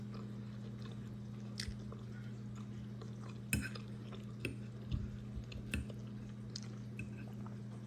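Soft, close chewing and biting of steak with rice and gravy during a taste test, several moist squishy bites over a steady low background hum, with no talking.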